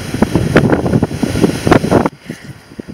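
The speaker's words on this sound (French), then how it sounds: "franchement excusez-nous parce que là il y a du vent" Strong outdoor wind buffets the microphone in a loud, continuous rumble with gusting peaks, then drops off abruptly to quieter, thinner gusts near the end; no talking.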